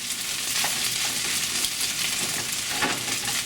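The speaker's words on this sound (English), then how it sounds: "now you see we are cooking on high heat, and that's what makes the rice separate from each other and not stick" Pork belly fried rice stir-frying in a pan over high heat, a steady loud sizzle with scraping stirs and occasional spatula clinks, continuous throughout with no talking.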